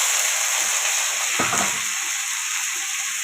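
Onions and tomatoes frying in a pan for a fish curry, with a steady loud sizzle throughout and a brief clatter of stirring or something added to the pan midway.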